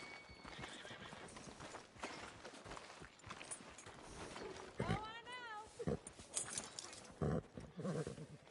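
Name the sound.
horse hooves in video game Red Dead Redemption 2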